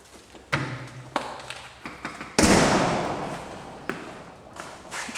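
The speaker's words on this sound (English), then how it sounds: "I'm going to close this door because it's chilly." A garage door is pulled shut, with a series of thumps and rattles followed by a loud rolling clatter and a final bang, close and unaccompanied by talk.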